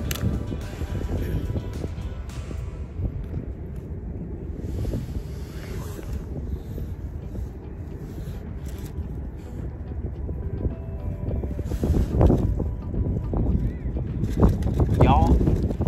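Strong sea wind buffets the microphone continuously while fishing near the port of Melbourne, Australia, with gusts swelling louder toward the end; someone speaks briefly under the roar.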